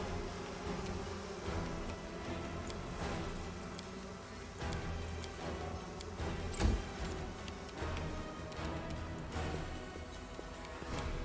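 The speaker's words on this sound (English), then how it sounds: "Let's get in and get friendly with these lovely bugs." Steady insect buzzing of bugs in the video game Wrath of the Righteous, a dense continuous drone with small clicks and one brief thump midway, running throughout without talk.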